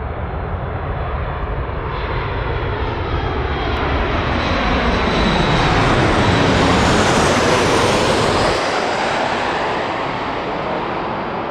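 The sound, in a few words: Boeing 737 MAX airliner landing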